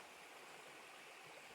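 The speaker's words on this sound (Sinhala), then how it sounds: "අක්කරසිය ගඟ." Steady rushing flow of the Akkarasiya river stream near Haputale, a continuous broadband wash of water heard alone with no voices.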